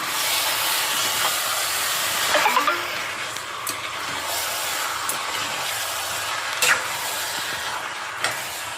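Chicken hisses steadily as it is added to softened onions in a pan for a chicken curry. A loud, continuous sizzle is broken by a few scraping stirs.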